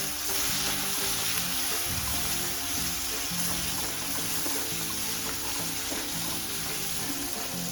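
Spices and an egg rice mixture roast in a hot pan, making a loud, steady, close sizzle that runs unbroken throughout with no one speaking.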